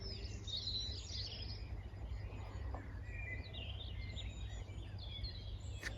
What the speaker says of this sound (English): I think one of the things about here is how much bird song there is.